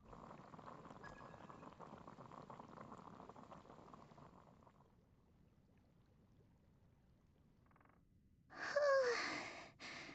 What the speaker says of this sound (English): I'll go boil some water.